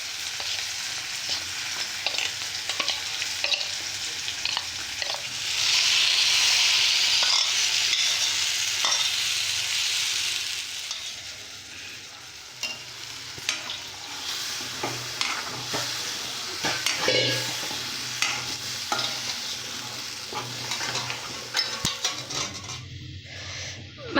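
Boiled potato being stirred and mashed into a sizzling masala in a pan for wheat rava dosa, a continuous scraping stir over frying sizzle, with no talking.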